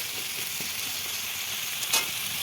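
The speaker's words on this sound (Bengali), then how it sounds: "যুদ্ধ করতে করতে সবজিগুলো এইভাবে ভাজা ভাজা করে নিয়েছি" Chopped vegetables frying in a pan give a steady, close sizzle with a hissing wash throughout, and a brief stir or scrape stands out near the end.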